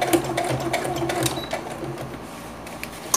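A sewing machine stitches the synthetic lining of a rabbit-shaped bag in a rapid, even mechanical patter at close range. It runs steadily with a few brief changes in pace and no talking.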